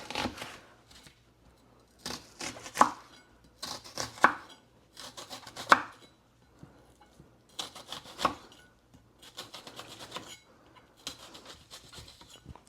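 Knife cutting vegetables on a board, bursts of rough slicing and scraping repeated in short groups with quiet gaps between them, close and fairly crisp.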